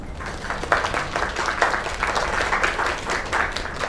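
An audience claps together in the video game Lake, a steady, moderately loud patter of many hands that keeps an even level throughout with no talking.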